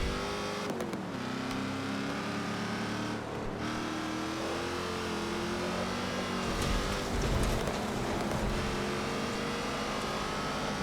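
Wide off-road trucks race in Forza Motorsport 7, engines droning and revving steadily up and down through the whole stretch, with a few brief gear-shift dips and a louder surge near the end.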